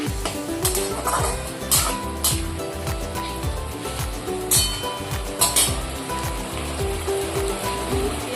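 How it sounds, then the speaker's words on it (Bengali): Potatoes, tomato and spices frying in oil in a home kitchen, with a steady sizzle under repeated scraping and clinking of a spoon stirring against the pan in quick rhythmic strokes. "মশলাটা ভালো করে আলু সাথে, টমেটোর সাথে, তেলের সাথে মিক্স করে কষিয়ে নেবো।"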